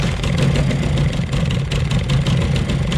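A Mercury XR 10 outboard boat motor runs steadily at close range, a loud continuous droning rumble with a slightly uneven throb and no speech over it.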